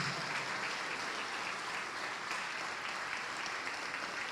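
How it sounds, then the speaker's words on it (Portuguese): A church congregation applauds steadily and loudly throughout, a dense, unbroken wash of many hands clapping with no pauses. "vamos aplaudir mais ao nome de Jesus."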